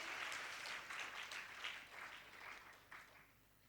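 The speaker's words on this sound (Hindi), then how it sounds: "तालियां बड़ी कमजोर है" Thin, scattered applause from an audience at a religious discourse, a soft patter of clapping that rises and fades in uneven waves before trailing off, heard faintly with no voices over it.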